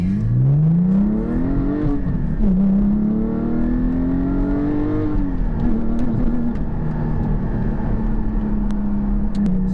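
Porsche Cayman GT4 engine with its exhaust valves open, revving loud and close while driving in sport mode, pitch climbing through gears and dropping briefly on shifts, sustained and alone without talk.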